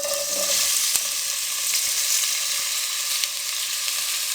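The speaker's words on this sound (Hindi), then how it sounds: "अब इसमें हम प्याज फ्राई करेंगे।" Onions fry in two tablespoons of cooking oil in a kadai on the stove, giving a steady, loud, close sizzling hiss with a few faint crackles throughout.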